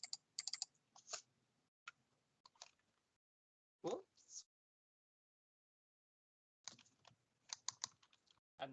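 Mouse clicks and Control key presses on a computer running Excel, sharp close clicks in short clusters separated by silent gaps.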